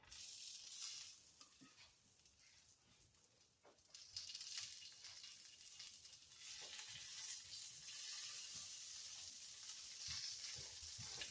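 Meatballs frying in a pan, a continuous crackling sizzle of hot grease with occasional louder pops, moderately close and steady, growing a little denser partway through.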